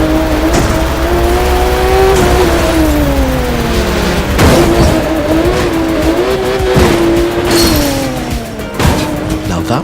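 Race cars in the video game The Crew 2 roar at high revs throughout, engine pitch rising and falling with gear shifts, tire squeals and skids cutting in, loud and continuous with a voice talking over it.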